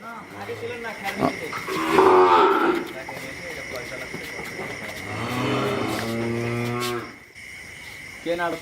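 Heifers at a farm at night, being loaded for delivery to buyers from Rangpur, let out loud, drawn-out moos nearby, with voices in the background.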